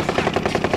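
A Mac 10 fires in a fast automatic burst in the Warzone video game, about eight close, loud shots in a tight, even rhythm with no pause.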